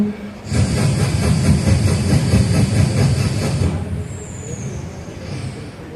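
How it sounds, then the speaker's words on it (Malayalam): The Kalakerali Express from Palakkad to Thiruvananthapuram rolls into platform 1 with a loud, close, rhythmic wheel clatter that eases off, followed by a brief high air-brake squeal. "പാലക്കാട് നിന്നും തിരുവനന്തപുരത്തേക്ക് പോകുന്ന കലാകേരളി എക്സ്പ്രസ് 1-ാം നമ്പർ പ്ലാറ്റ്ഫോമിൽ എത്തിച്ചേരുന്നു"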